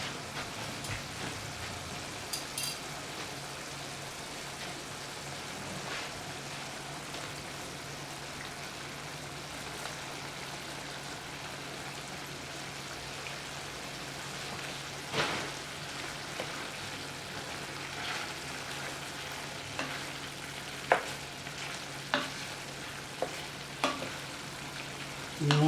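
Cooked tail-on shrimp go into a pan of lemon garlic butter and are stirred, giving a steady soft sizzle with scattered scraping clicks and a few sharper spoon taps toward the end, no voices.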